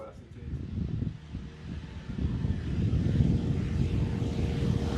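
A light aircraft's engine drones at a steady, fairly loud level as it takes off, with a broad rumbling roar that swells slightly and holds through to the end.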